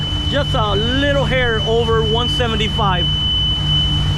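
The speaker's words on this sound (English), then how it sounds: "You can hear the alarm in the background going." Someone talks over a steady, high-pitched boat engine temperature alarm and a low engine drone, the alarm whining continuously in the background.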